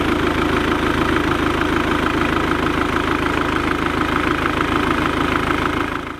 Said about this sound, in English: We just had the engine on, we've had it running, what, 3 minutes?